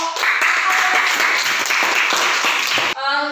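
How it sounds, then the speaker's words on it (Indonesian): Applause from students for a group in a classroom, a loud steady burst of many hands clapping that cuts off abruptly near the end, followed by a brief tonal sound. "kita berikan tepuk tangan untuk kelompok"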